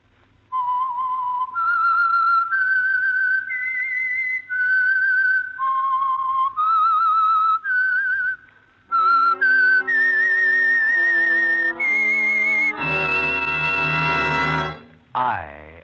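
A melodic whistled theme for the Signal Oil radio program The Whistler, sounded as a sequence of clear sustained notes stepping up and down. It ends in a brief fuller orchestral swell, heard alone and close.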